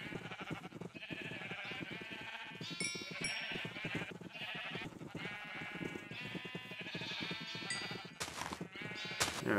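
Minecraft sheep bleat over and over in a crowded, overlapping chorus, loud and close, with the pixelated farm animals calling continuously and no talking.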